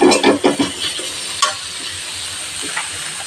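Ground coriander and turmeric are stirred into a sizzling masala filling in a pan, a spoon scraping in quick strokes at first, then easing off as a steady frying hiss carries on beneath.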